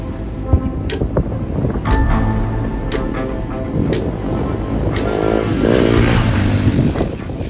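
A motorcycle rides along a monsoon forest route, its engine droning steadily under rushing wind noise, close and fairly loud, with the engine note rising and falling slightly.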